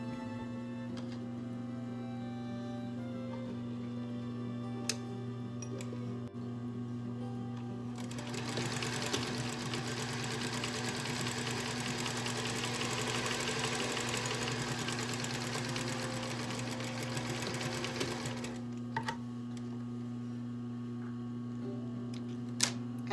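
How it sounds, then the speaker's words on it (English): A sewing machine runs steadily for about ten seconds while top stitching along the bottom edge of a pleated fabric face mask, close and fairly quiet over a constant low hum, with a few light clicks before and after. "we are just going to top stitch along the bottom of the mask"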